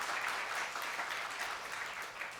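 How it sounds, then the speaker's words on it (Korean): A church congregation at a New Year's Eve service applauds together, producing a dense, steady wash of clapping that fills the moment without any voices on top. "우리 다시 한번 우리 박수하겠습니다"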